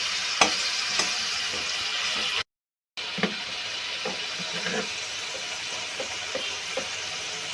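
Spice paste with ginger, chilli and coriander powder stir-fried for a pumpkin fritter curry, a close, even sizzle with scattered scraping strokes, cut by a short silent gap partway through.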